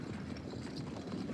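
Cartoon horses gallop in a quick, muffled clip-clop rhythm, faint and steady throughout a brief burst with no voices.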